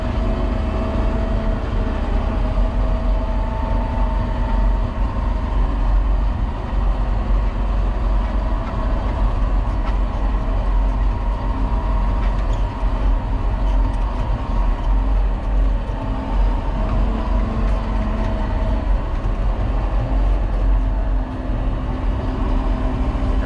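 Cat 938K wheel loader rolling forward in 4th gear, a steady, loud diesel engine drone with broad low rumble and mechanical noise continuing unbroken throughout, no voices.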